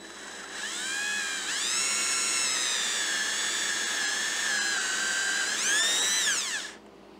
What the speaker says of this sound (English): I'm going to go back in here with my 1/8 inch drill and open it up.